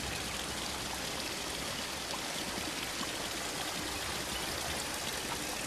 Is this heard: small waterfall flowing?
yes